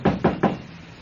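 Three firm knocks on a door at the front of a room-rental house, evenly spaced and close, the last one fading into a quiet room tone.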